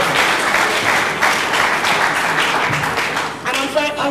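An audience claps for Sir Peter Sophie at a programme event. The broad, steady applause holds for several seconds, then thins near the end as a voice begins to come through.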